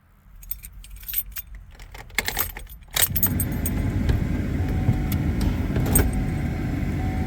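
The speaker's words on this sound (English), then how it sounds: "you're going to need to turn the key in the ignition to accessory" Car keys jangle in the ignition of a 2007 Chevy Silverado for about three seconds of sharp metallic clinks, then the key turns to accessory and a steady, louder hum or rush comes on and runs to the end.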